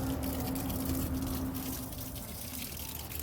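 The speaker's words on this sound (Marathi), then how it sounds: "असं आपल्याला पाणी घालायचं आहे।" Water pours steadily onto garden grapevines and plants, a close, continuous rushing splash that eases slightly in the second half, with no voices.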